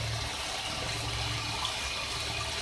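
Steady rushing stream of water poured into a pot of spiced potato and egg curry, continuous and close with no talk over it.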